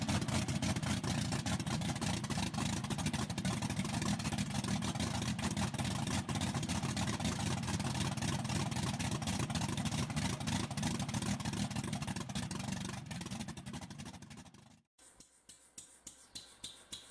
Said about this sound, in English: 354 Hemi engine with a supercharger, giving it the raw power and distinctive stance typical of classic gassers.